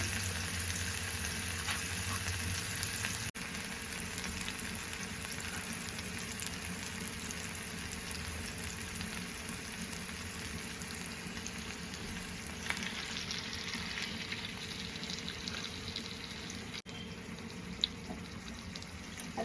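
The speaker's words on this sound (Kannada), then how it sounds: "ಫಿಶನ್ನ ನಾನು ಇವಾಗ ತವ ಮೇಲೆ ಹಾಕ್ತಾಯಿದ್ದೀನಿ" Marinated fish frying in oil on a tawa, producing a continuous, even, low-level sizzle at close range that persists throughout without talking.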